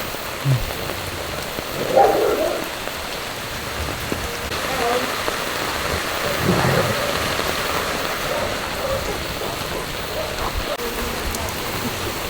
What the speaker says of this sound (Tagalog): Ito unang ulan, no? Na malakas